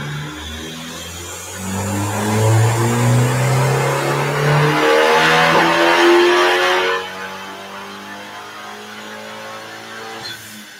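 A big-turbo Dodge Dart engine revs hard on a dyno, climbing loudly through a sustained pull with a stumble from spark blowout, then dropping back to a lower idle-like drone for the remaining seconds.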